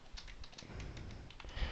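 Soft, quick keystrokes on a computer keyboard, a fast irregular patter of faint close taps with no voices.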